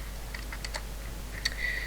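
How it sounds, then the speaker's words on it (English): Fingers tap a computer keyboard in a short burst of light, close keystrokes, a handful of quick clicks with brief pauses over a faint low hum. "Let's start with typing some text."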